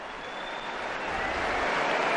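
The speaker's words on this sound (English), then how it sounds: "the change in the noise coming from the crowd, Pope Francis has just entered the room" A crowd in the papal audience hall at the Vatican swells as Pope Francis enters, a dense, steady roar of clapping and voices that grows louder over the moment.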